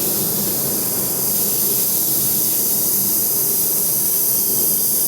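An HVLP paint spray gun set one turn in and running at about 20 psi gives off a loud, steady, unbroken hiss of air and spray, close up.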